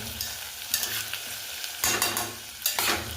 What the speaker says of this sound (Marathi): परतून घ्यायचा 1 मिनिट भरासाठी, जास्त वेळ नाही